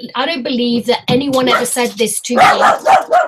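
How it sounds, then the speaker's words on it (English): A dog barks in the background while a person keeps talking loudly close by, the barks mixed in under and between the words. "Sorry, that's my dog."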